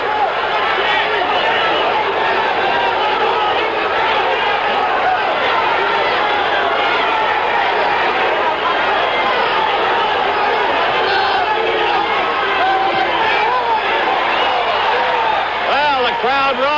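Boxing arena crowd at the 1977 Ali vs Evangelista fight in Maryland, a steady loud roar and babble of spectators throughout, with a commentator's voice running over it.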